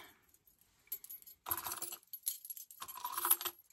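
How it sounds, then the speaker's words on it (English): Metal chain with a D-ring, bag hardware for a sewn bucket bag, jangles and rattles in two or three short handled bursts separated by near silence, close and fairly soft. "I've attached some chain with a D-ring."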